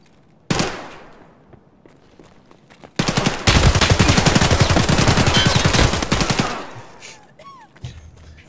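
Gunfire in Escape From Tarkov: a single loud shot, then a long dense burst of rapid automatic fire lasting several seconds before trailing off.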